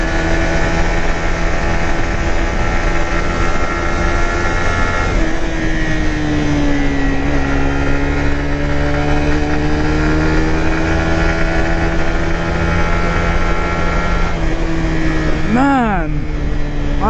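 A Suzuki GSX-R150 motorcycle engine drones steadily at cruising speed with constant wind rush, the pitch rising and falling slightly as the ride goes on.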